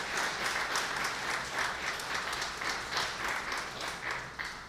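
A church congregation claps loudly for the King during a service, a dense, sustained roll of many hands that pulses slightly without pausing.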